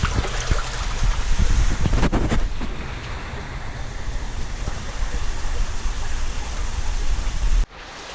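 Water in a fish treatment tub churns and rushes steadily, a loud broadband wash with splashing bursts near the start, running continuously before cutting off abruptly near the end.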